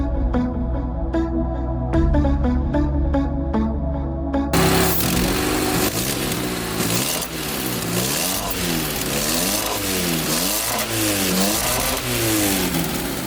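A Honda Civic EF with a swapped K24 engine revs repeatedly with a leaking exhaust, sweeping up and down in steady rising and falling pulls, loud and close, after a short stretch of musical intro.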